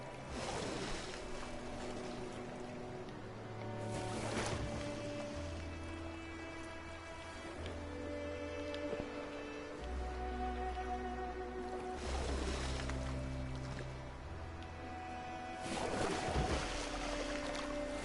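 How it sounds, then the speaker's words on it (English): A rowboat moves across water in the video game Detroit: Become Human, with repeated oar strokes splashing every few seconds over quiet ambient water and low game music. "We'll just row."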